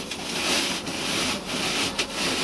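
Potting substrate for streptocarpus rubbed and crumbled by hand, a steady dry rustling scrape lasting throughout with a few brief louder pulses, close and alone.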